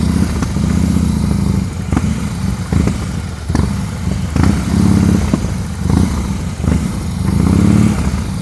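Motorcycle engine during slow-speed riding practice, revving in repeated short throttle blips that rise and fall every second or so over a steady idle, close and loud with no talking.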